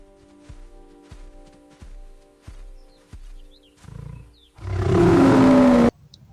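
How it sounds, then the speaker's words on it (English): A toy lion gives a loud, close electronic roar lasting over a second, after several softer taps and handling knocks on the toy. "Wow, this one is a lion."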